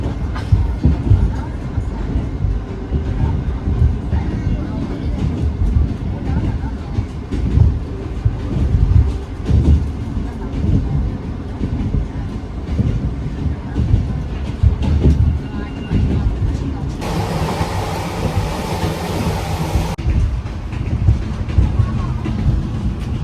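A Vietnamese passenger train rolls along the rails with a continuous loud rumble and rattling wheel clatter, heard from on board, with people talking faintly beneath it.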